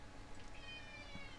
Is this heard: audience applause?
no